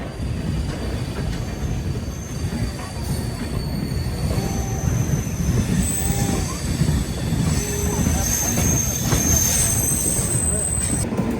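A Vadodara-hauled Paschim Express pulls out on the adjacent track at a station, a steady rumble of wheels with squeals and metallic tones, heard from an aboard train nearby with faint voices in the background.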